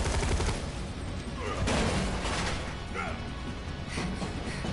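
Barrett's gun firing in the video game Final Fantasy VII Remake, a dense, continuous barrage of loud shots mixed with crashing impact sounds and game effects.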